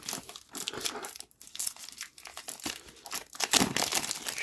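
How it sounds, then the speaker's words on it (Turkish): Plastic wrapping being torn open on a boxed SGS boxing (punch) set, after a first cut with a knife: close, continuous crinkling and tearing of plastic film, irregular and busy, with brief pauses. "Şöyle bir yerinden yırttım. Hızlıca açalım."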